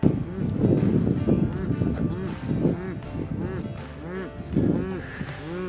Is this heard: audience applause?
no